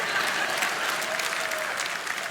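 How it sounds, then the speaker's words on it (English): A church audience claps steadily, a dense wash of applause from many hands, sustained throughout at moderate loudness with no voices over it. "They're clapping right now for that."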